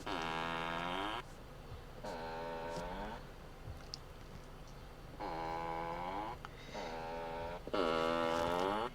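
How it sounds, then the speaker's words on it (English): Tesla Model S Toybox fart sound effect plays several times, long buzzy, rasping blasts with spluttering pitch, loud and close inside the car, separated by short quiet gaps. "It's the fart one"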